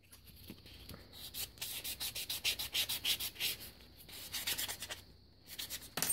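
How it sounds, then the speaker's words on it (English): Someone sands a small metal jewelry piece for a feathered-wings bracelet with quick, rhythmic back-and-forth strokes. The rasping is soft, close and steady, with brief pauses between runs. "let's go ahead and sand this one too"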